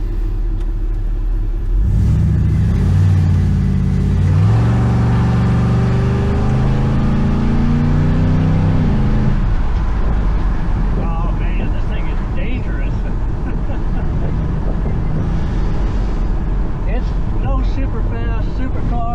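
A V8-swapped Toyota Celica with an automatic transmission is forced to pull away in low gear, its engine roaring loud and close as revs climb and hold, then settling into a steady rumble.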